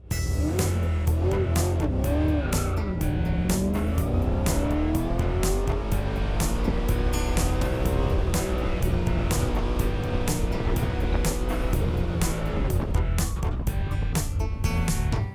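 Chevrolet Camaro race car on a speed run, engine roaring loud and continuous throughout with steady high-revving drone and rising pitch sweeps, close and dominant with no voices.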